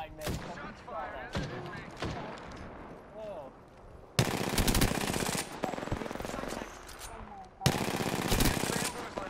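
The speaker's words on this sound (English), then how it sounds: "Oh, I missed. Shots fired." Automatic weapon fire in the Apex Legends shooter game on PS4, with rapid bursts of shots in two long loud stretches after scattered single shots, while a player talks excitedly over the action.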